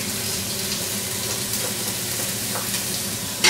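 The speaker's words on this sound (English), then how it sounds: "Next, we're going to go ahead and add our onions" Onions and garlic sizzle in bacon grease in a pan, a steady close frying hiss with light stirring, continuous and loud with no talking.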